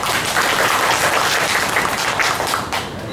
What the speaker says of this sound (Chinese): 掌声欢迎一下